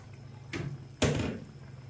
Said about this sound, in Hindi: तो माशाल्लाह से ढक्कन मैंने हटा दिया है